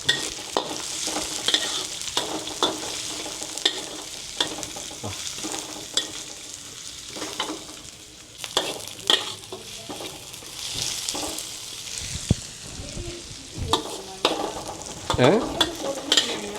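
Onions sautéing in a pan with a little cumin, a close sizzle punctuated by repeated sharp scrapes and clinks of a spatula against the pan, with no voices.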